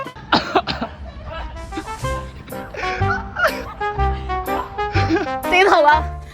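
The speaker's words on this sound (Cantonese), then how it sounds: "我發動技能，全部人都要咳一聲而家" A group of people cough one after another on command in a playful hide-and-seek game, short bursts scattered among excited talking and shouting voices, close and loud.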